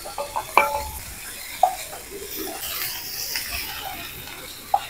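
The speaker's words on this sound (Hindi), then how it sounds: "घी हो गया गरम, इसमें डाल देते हैं प्याज, बीन्स भी साथ डालूं क्या?" Onions and beans sizzle in hot ghee in a pan during a campsite cooking stop on a road trip, with a steady frying hiss and a few sharp clinks of a spoon against the pan.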